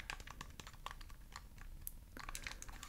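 The clicky buttons of a video game item are pressed over and over in quick, uneven bursts of crisp, close, quiet taps, with no voices.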